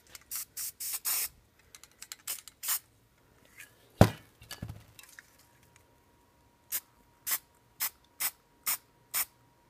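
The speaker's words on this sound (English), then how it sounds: "I just gave it a quick spray." A can of spray paint hisses in several short bursts, then a clatter, then a series of evenly spaced quick sprays, close and fairly loud, while graffiti-style art is painted.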